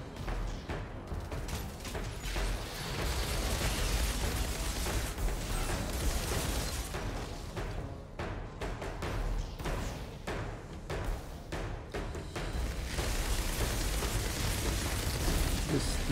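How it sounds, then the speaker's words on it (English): Repeated explosions from enemy grenades in the shooter Outriders, muffled booms and thuds layered over steady gunfire, pops and game effects, with bursts recurring throughout and voices briefly heard. "Throwing grenades."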